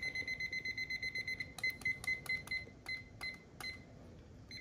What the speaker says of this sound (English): I'm going to close my oven and I'm going to set a timer for 30 minutes.